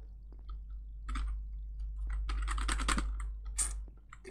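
Keys on a computer keyboard are tapped in quick, uneven bursts with short pauses between them, close and fairly quiet over a low steady hum.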